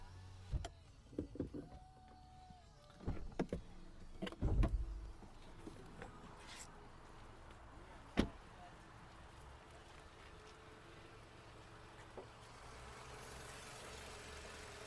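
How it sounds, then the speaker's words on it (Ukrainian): A Volkswagen Golf 6's electric windows whir up and down in a quiet cabin, a few short motor runs with clicks and thumps, a faint engine idling beneath. "підйомники у нас працюють"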